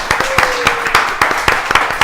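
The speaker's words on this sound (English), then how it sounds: "A round of applause for that." A studio audience at a talk show claps in applause, loud close hand claps in a quick uneven rhythm with a faint voice underneath.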